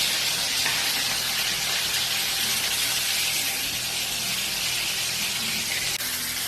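Rohu fish pieces fry in hot oil for a mustard fish dish, giving a loud, continuous close sizzle and hiss that holds steady throughout, with a faint clink near the end.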